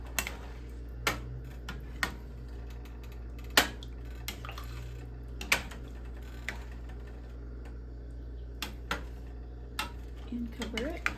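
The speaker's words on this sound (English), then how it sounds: "let's mix that up." A utensil stirs beef stew in a pot with vegetable soup and water, giving sharp, irregular clinks and scrapes against the metal every second or two over a constant low kitchen hum.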